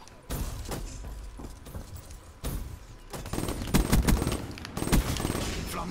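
Rapid bursts of Call of Duty: Black Ops 3 multiplayer gunfire crackle and thump in uneven volleys, growing denser toward the end.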